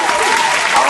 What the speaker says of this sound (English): Sure, you get a round of applause.